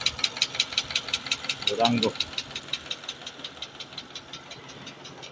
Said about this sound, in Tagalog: Maingay yung makina.